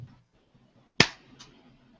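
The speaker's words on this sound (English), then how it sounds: "Jacqueline, give me a clap." A single sharp hand clap, loud and close, after a moment of near silence, followed by a faint softer echo-like tap.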